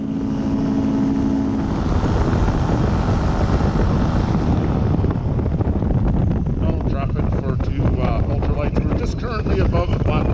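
A small propeller airplane cruises at about 4,500 feet over the Blackwater Lakes through pockets of rough air, a loud continuous engine drone mixed with heavy wind rush that fills the whole stretch.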